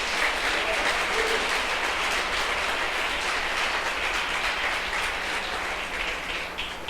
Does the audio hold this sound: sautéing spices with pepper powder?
no